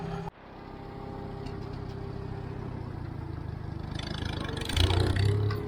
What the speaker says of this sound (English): Let me move this tractor.